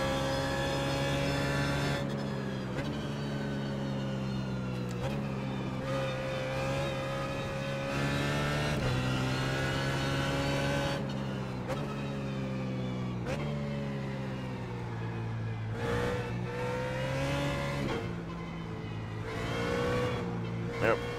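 BMW Z4 GT3 race car engine in iRacing at Barber Motorsports Park, a steady loud harmonic drone that rises and falls as the throttle works through gear changes, running continuously alongside a talking voice.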